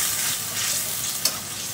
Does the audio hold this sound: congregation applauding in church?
no